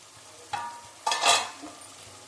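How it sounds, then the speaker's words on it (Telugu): Capsicum, fresh coconut and tamarind land in a hot pan with two sharp bursts of sizzling, then settle into a softer crackle, close and loud. "ఇప్పుడు క్యాప్సికము, పచ్చి కొబ్బరి, చింతపండు వేసేస్తున్నా. ఇవి కొద్దిసేపు వేగనివ్వాలి."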